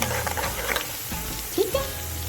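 Fresh chopped garlic and green chilies sizzle in hot oil in a pan while being stirred briskly, a steady frying hiss with occasional clinks of the spoon against the pan.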